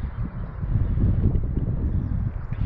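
Gusty wind buffeting the microphone at an open flying field, a steady low roar with rustling surges throughout and no voices.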